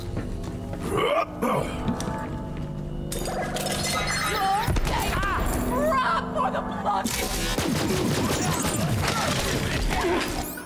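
A grenade goes off in Borderlands 3, a sudden harsh, shattering blast that breaks through busy game music and effects; someone talks before it, and the blast's crackling debris and effects trail on loudly afterward.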